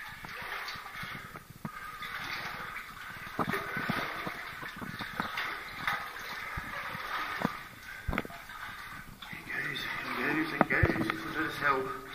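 Wind gusting through a tunnel in the abandoned Wheal Trewavas tin mine in Cornwall, a fluctuating rushing roar with buffeting on the microphone, and people talking over it.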